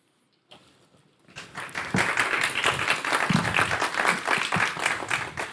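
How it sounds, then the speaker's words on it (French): After a faint start, a small group at a graduation ceremony bursts into steady applause, clapping briskly and fairly close for several seconds. "quelques applaudissements sur ce plateau"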